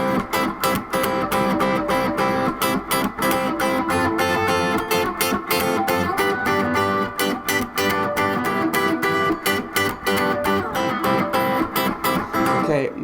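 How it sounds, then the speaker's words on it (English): Electric guitar plays the verse riff of a song as a loud, tight, steadily chopped rhythm of repeated strummed chords, alone and continuous. "Now, the second riff we want to learn is the verse part. It sounds like this."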